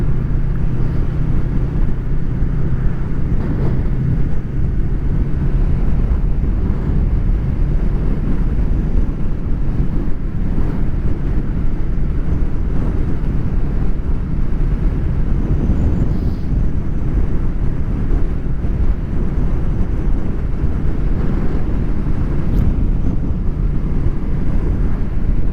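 A Honda VFR800 motorcycle on the move, with loud, steady wind roar and engine drone filling the whole stretch without letup as the bike cruises along.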